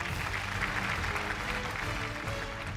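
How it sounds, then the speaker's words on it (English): A crowd gives sustained applause at an AI summit awards ceremony for a winning team, dense steady clapping filling the hall with no talk over it. "A round of applause for the winning team."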